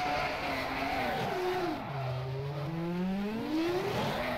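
A race car spins and skids during a game race at the Abu Dhabi circuit: engine whine swoops down and back up in pitch over a continuous roar, with faint tyre scrubbing as the car slides.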